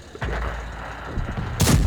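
A heavy tank cannon blast in a tank video game, on the Redshire map, booms out, its rumble rolling on, followed by a second sharp shot near the end.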